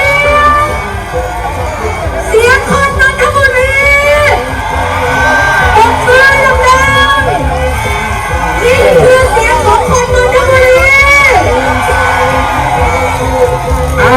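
A large outdoor election rally crowd in Nonthaburi, Thailand cheers, whoops and yells loudly and continuously, with shouting voices and babble layered throughout.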